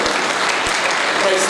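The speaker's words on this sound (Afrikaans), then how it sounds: "Kom aan, klap vir die Here." A church congregation clapping together in a sustained burst of dense, close applause that fills the whole short moment.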